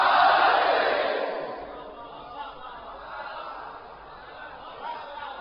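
A crowd at a Shia majlis mourning gathering in India on the 20th of Ramzan loudly shouts a religious slogan in unison. The roar is strongest at the start, then fades into a lower murmur of voices.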